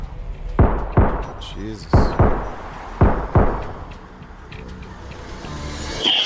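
Gunfire in a video game: several heavy, booming shots in pairs and singles, loud and close, with a voice speaking briefly between them.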